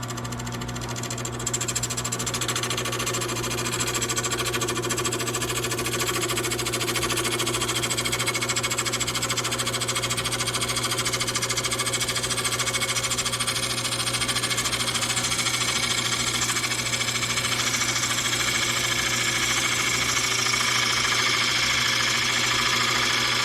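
Wood lathe spinning a bowl blank while a gouge takes a single light pass, a steady loud machine drone with a constant hum and hissing cut noise running continuously throughout, with no talking.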